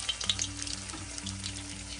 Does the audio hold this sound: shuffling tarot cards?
no